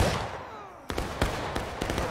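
Gunfire in a multiplayer war video game: a series of sharp, loud shots spaced unevenly over a couple of seconds, sounding close and punchy against a fading background rumble.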